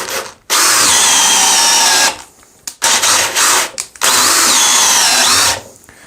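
A Parkside PPBSA 20 Li A1 cordless drill in first gear boring with a 32 mm auger bit: two long, loud bursts of steady, high motor whine separated by a short stop and a few brief stuttering starts.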